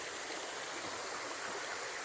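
A creek flows beneath a bridge along a trail near Lovingston Spring, giving a steady, close, broadband rush of running water that continues without a break.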